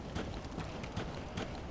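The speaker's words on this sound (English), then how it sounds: "I hear footsteps." Footsteps in Dark Souls 3: a faint, steady run of soft thudding steps repeating about every fraction of a second, heard alone at low level.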